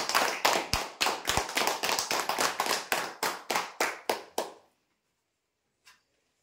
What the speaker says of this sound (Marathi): जोरदार टाळ्या वाजवण्यासाठी.